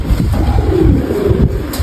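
A young white-tailed pigeon coos softly and close, low rounded calls repeating over steady background noise, with no voices.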